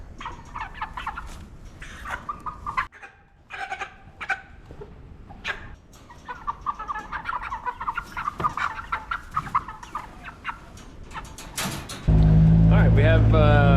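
Cornish cross meat chickens cluck and gobble in irregular bursts close by on a processing day. Near the end a loud, harsh noise swamps them.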